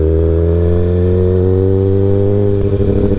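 A Kawasaki ZX6R sport bike engine revving, a loud close steady whine that climbs gradually in pitch, then briefly stumbles near the end.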